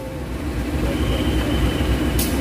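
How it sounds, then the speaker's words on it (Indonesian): Locomotive CC209212 hauling the Joko Kendil train of vintage 1938 carriages at the Cipinang depot gives a steady, loud low rumble and drone, with a short hiss near the end and no talk. "Kereta api Joko Kendil siap untuk diberangkatkan dengan lokomotif CC209212 di Poinduk Cipinang."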